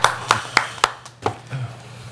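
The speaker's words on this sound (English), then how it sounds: "Yeah, you can clap." A handful of sparse, distinct claps at a township board of commissioners work session, about six separate hand claps in an uneven rhythm that taper off within two seconds in a quiet meeting room.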